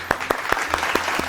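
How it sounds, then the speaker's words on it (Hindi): A studio audience at a Pakistani TV talk show claps in a quick, steady rhythm of sharp, evenly spaced slaps, close and moderately loud, with no talking. "जोर से तालियां बजाएं।"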